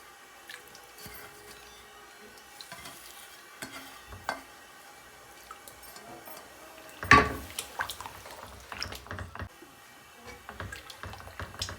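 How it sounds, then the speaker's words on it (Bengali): Boiled milk is poured into a pan of cooking semolina, with soft stirring and dripping sounds, quiet and close, then a brief louder splash and liquid burst partway through. "একটু দুধ দিয়ে দিচ্ছি"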